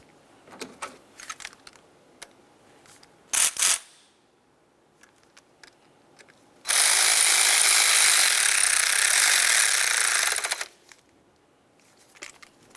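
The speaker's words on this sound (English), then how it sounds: "Start in that mounting bolt, tighten it up." A short buzz is followed by a sustained four-second power-tool whir tightening the alternator mounting bolt on a 2006-2011 Honda Civic, with scattered metallic clinks and taps around it.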